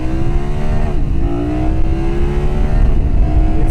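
A BMW F 900 GS adventure motorcycle accelerates hard, its engine note climbing steadily in pitch through the gears, loud and close throughout with no talking.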